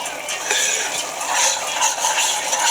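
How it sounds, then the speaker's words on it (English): A spoon scrapes and clinks against a pot while roux-thickened gravy for turkey necks is stirred, with close, continuous metallic rubbing and light taps. "You have to keep stirring it."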